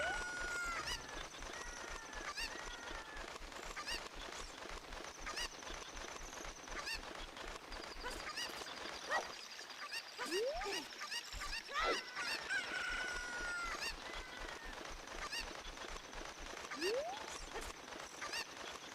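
Video-game chickens from Ocarina of Time clucking and squawking in a steady busy stream, with several sharp honking cries standing out over continuous game music and effects.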